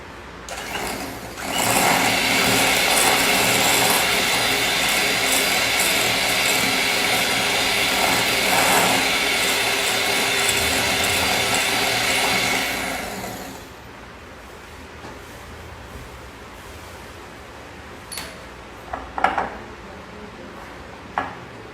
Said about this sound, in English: After adding the egg yolk, you can whisk it again to make it even more smooth.